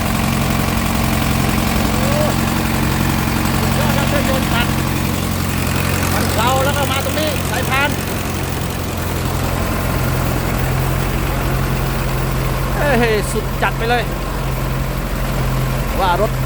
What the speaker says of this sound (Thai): โอ้เครื่องยนต์น้องเครื่องยนต์